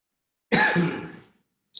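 A single short, husky cough from a doctor presenting a webinar on cervical cancer screening, close to the microphone and alone in an otherwise quiet room, followed by a faint trailing breath.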